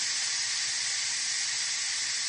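Steam hisses out of a quick cooker pressure cooker making red lentil and spinach soup, a steady, bright, continuous jet of hiss with no break, close and alone.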